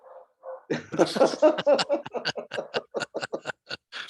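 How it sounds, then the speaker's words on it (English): A dog lets out a quick run of loud barks close up, starting in a burst and then going on as sharper yaps in a steady rhythm. "even the dog wants to participate in this"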